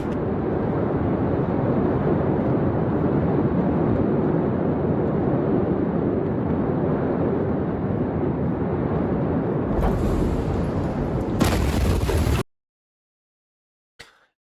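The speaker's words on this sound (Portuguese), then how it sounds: "veio a segunda explosão" A loud, sustained rumbling roar like a massive blast continues for about twelve seconds, then cuts abruptly to silence.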